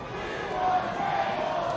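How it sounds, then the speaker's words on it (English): Wrestling fans in an arena crowd chanting for tables during a Rhino versus Tommy Dreamer match, a steady loud roar of many voices filling the hall without a break. "When the fans chant for tables, that's never a good sign."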